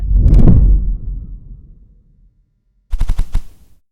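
A comic-style gunshot sound effect, fired three times, opens with a loud booming blast that slowly decays, then a rapid cluster of sharp shots rattles out after a short silence.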